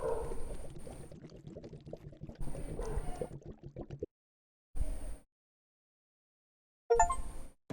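Water glugs and splashes as it is poured from a can in several separate bursts with abrupt silent gaps between them, close and fairly quiet.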